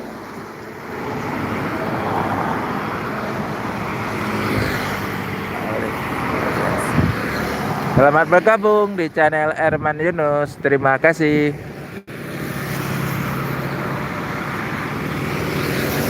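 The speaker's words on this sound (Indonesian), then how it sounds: "Yang banyak sekarang datang truk-truk aja baru." Steady roadway traffic rumbles along a roadside in Palembang, with trucks passing while people wait for buses arriving from Sumatra and Java. Someone talks over it in the middle, and the engine wash continues throughout.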